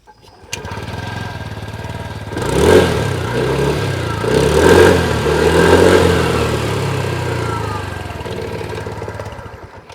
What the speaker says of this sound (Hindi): अब मैं आप लोगों को जो एग्जॉस्ट साउंड है वो भी सुना दूँ, और स्टार्ट करेंगे विद दिस जुपिटर 125